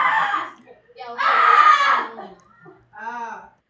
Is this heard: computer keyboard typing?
no